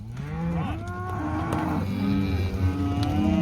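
Calves being moved down a narrow alleyway on a ranch moo loudly and repeatedly, long overlapping bellows close by, with clatter and shuffling around them.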